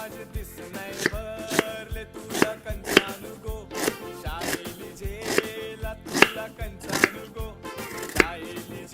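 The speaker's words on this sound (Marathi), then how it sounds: "चला आता कांदे आपण कापून घेऊया बऱ्यापैकी आपल्याला बारीक कापायचे" Onions chopped finely with a knife on a board for a spicy prawn chutney, a steady run of crisp, close chops at roughly two per second with no talk.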